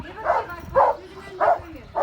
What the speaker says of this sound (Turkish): Nerede başka bir köpek var ona havlıyor